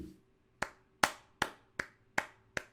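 Six sharp hand claps ring out alone at a steady, slightly uneven pace, each one loud and close with a quick decay, after a brief quiet start.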